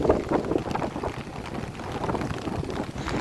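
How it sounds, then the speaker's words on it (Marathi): Gusty monsoon wind buffeting the microphone with a steady wash of rain behind it at Tata Lake, Lonavala, rumbling and uneven, no voices. "पावसाची गाज आणि वाऱ्याचा आवाज आपल्याला इथे ऐकायला येतो आहे"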